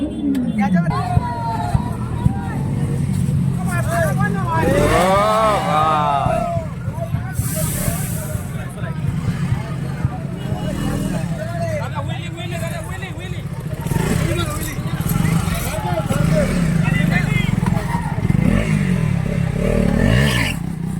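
Superbike engines, including Kawasaki machines and a BMW S1000 RR, rev at a roadside dhaba. The rising and falling engine notes sit under steady crowd babble and nearby voices throughout.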